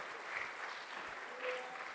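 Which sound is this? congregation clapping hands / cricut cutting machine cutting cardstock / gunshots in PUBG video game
congregation clapping hands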